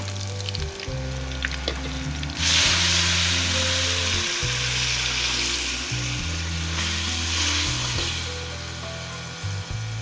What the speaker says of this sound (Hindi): अब मैं ये टमाटर, सब्ज़ मिर्ची और प्याज का पेस्ट शामिल करने लगी